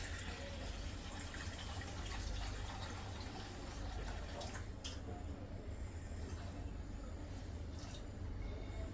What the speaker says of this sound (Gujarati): તો થોડું હજી પાણી નાખી દઉં